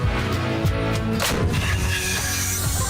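Heavy artillery booms on the Bakhmut front over a dense, continuous rumble, with several deep blasts rolling through the whole stretch, loud and close.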